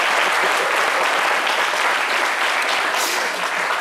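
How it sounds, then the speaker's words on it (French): A studio audience breaks into steady, dense applause during a live French midday show, loud and close with no voices over it, holding evenly for a few seconds. "Applaudissez pour moi"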